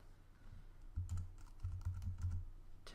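Keys clatter on a computer keyboard as a code is typed in, a quiet run of separate taps that grows into a brisk burst of clicks, close by and alone with no talking.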